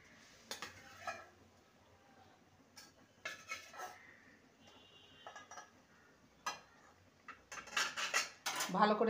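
Fried pointed gourd pieces are stirred in a pan, with sharp clinks and scrapes of a metal spoon against the pan coming in scattered bursts, close by, and a busier, louder clatter near the end.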